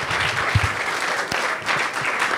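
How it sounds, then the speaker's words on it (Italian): Brief burst of audience applause at a social-critique day event during the Rome Film Festival, a dense patter of many hands at moderate volume, with a faint voice underneath. "Grazie, un applauso a Roberto."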